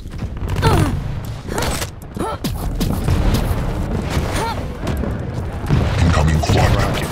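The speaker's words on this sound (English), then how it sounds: "Rocket jump, as you saw from what that guy just did" A rocket jump explosion in the video game Quake Champions, with booming blasts and rumbling impacts amid busy game action and some voice over the top.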